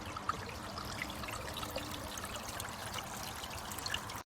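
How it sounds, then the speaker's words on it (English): Water trickles steadily from a small garden pond waterfall, a continuous close splashing babble with even level and no pauses or voices. "There's my waterfall"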